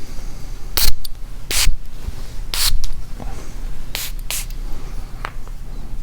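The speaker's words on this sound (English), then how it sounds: "So let me spray this beauty." Several short, sharp spritzes from a bottle of Guerlain Angélique Noire perfume, crisp hissing bursts spaced irregularly over a soft background hum, close to the listener.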